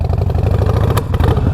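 A 2020 Harley-Davidson Roadster fitted with a Vance and Hines Fuel Pack revs in a steady, loud, close pulsing rumble, with a couple of sharper blips partway through and no talking.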